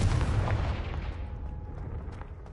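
A Confringo blasting spell goes off in Hogwarts Legacy, a single heavy explosive boom that rolls out and decays into a fading rumble, with no talk over it.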